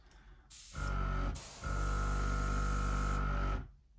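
In a workshop painting area, an airbrush compressor switches on with a hiss and a steady low hum, cuts out briefly, then resumes running evenly before shutting off; it sounds close and fairly quiet.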